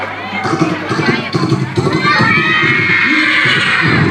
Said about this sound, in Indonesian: Suara kuda.